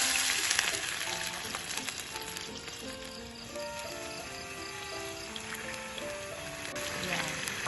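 Garlic frying in a pan with a continuous bright sizzle, fairly close, under people talking, with some tonal background sounds at a campsite.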